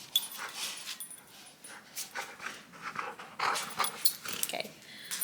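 A pet dog named Nike panting, whimpering and snuffling close by in a home, with irregular bursts of breathy sounds and small whines throughout.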